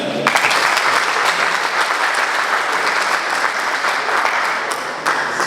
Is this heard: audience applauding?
yes